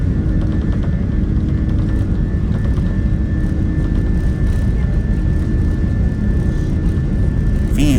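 An airliner accelerates down the runway on its takeoff roll, a loud, constant engine roar with dense low rumble and a faint steady whine, heard from inside the aircraft.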